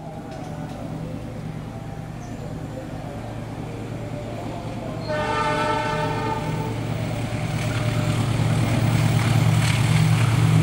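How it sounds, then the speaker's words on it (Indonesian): Ken 5 Cargo freight train pulling out of Cikarang station, a steady low rumble of wagons with a sustained horn tone joining partway and growing louder toward the end. "Akhirnya berangkat juga kereta api Ken 5 Cargo tepat 3 menit setelah diusul kereta api Argo Laut 7C"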